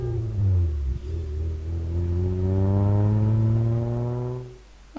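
A video-game bus pulling away, its mid-pitched engine revving up in a steady rising drone with strong harmonic tones, holding loud for several seconds before cutting off.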